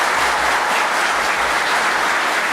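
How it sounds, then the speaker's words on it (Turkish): Audience applause at a Turkish remembrance ceremony for fallen soldiers, loud, continuous and dense clapping filling the whole stretch with no voices over it. "Bir alkış da alabilir miyim?"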